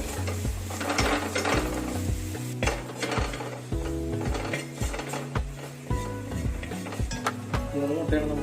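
Egg and green pea masala with chilli, pepper powder and garam masala being stirred in a pan, a busy run of scraping spoon strokes and clinks against the metal over a soft sizzle, steady and close for the whole stretch.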